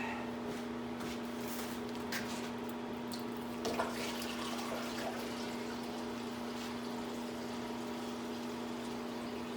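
Liquid pouring through a funnel into a rusty fuel tank, a faint steady trickle and gurgle under a constant low hum, with a few small clinks along the way.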